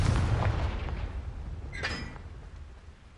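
A Confringo fire spell blast goes off in the Hogwarts Legacy game on PS5, a booming burst at the start that fades out, with a brief crackling flare near the two-second mark.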